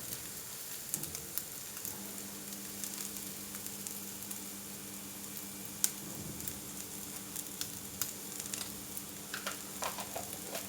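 Pork stir-fried with shrimp paste in a pan, a faint steady sizzle with light scraping and stirring clicks throughout, no talking.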